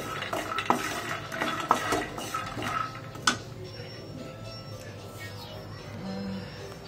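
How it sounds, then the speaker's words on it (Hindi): Almonds frying in a pan are stirred with a spoon, making sharp clinks and scrapes at first, then a softer, steady sizzle. "अभी कर रही हूँ बादाम फ्राई कर रही हूँ"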